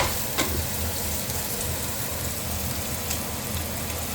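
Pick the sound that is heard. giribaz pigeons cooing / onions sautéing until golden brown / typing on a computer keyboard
onions sautéing until golden brown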